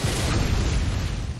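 Exploding grandpa enemy in Bloodborne blowing up, a loud, heavy, rumbling blast filling the whole moment with deep low boom and no voices.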